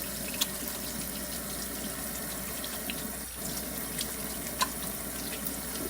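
Steady stream of water running from a tap into a sink, constant and moderately quiet with a couple of small splashes.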